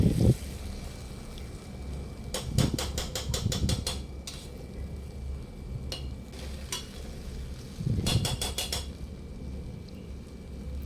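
Rice and mushrooms coated in masala are stirred in a hot pan for pulao, giving a low steady sizzle with bursts of scraping and clattering strokes in rhythmic clusters, close up and with no voices.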